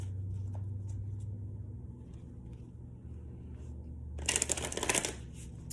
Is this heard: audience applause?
no